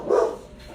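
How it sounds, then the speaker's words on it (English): A single short bark from a dog indoors, a brief mid-pitched woof near the start that quickly trails off into a quiet room, with no talking over it. "That's my dog."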